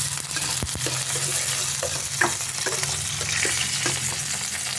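Grated ginger and spices sizzle in a pan as a splash of water hits the hot oil, giving a steady crackling hiss with occasional sharper pops and the faint scrape of stirring.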